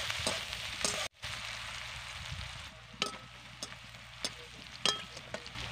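Onions sizzle and fry steadily in a pan, salted to soften for a spicy bata fish curry, with a constant hiss broken by occasional stirring clinks and scrapes, no talk.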